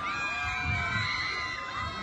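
An audience at a college pre-Mopin celebration cheers and shouts in a dense crowd roar to welcome the PVSU unit, with excited high voices and whoops sustained throughout, fairly close and loud.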